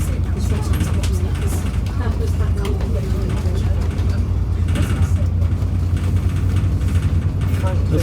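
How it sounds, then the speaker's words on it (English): Inside an Alexander Dennis Enviro400 MMC bus on a town route, a steady low engine drone and road rumble with rattles, loud and continuous throughout. "What kind of bus am I on? E400MC."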